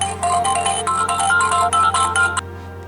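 A mobile phone ringtone plays loud and close, a bright repeating electronic melody that runs for over two seconds and then stops abruptly, with a low steady hum underneath.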